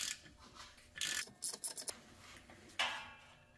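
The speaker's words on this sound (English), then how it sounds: "go ahead and remove the plug with a standard 3/8 inch ratchet" A standard 3/8 inch ratchet loosens a transmission fill plug on a C6 Corvette, giving several close bursts of rapid clicking with short pauses between strokes, then one last louder ratcheting stroke.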